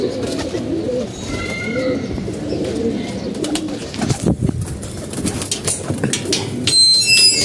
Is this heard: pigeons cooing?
yes